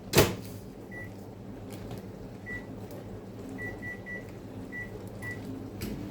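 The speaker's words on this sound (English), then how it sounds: "We're going to microwave that for about 40 seconds." A microwave oven heats a tablespoon of butter in a one-liter measuring cup: a quiet steady hum with a thump at the start and a string of short beeps scattered through.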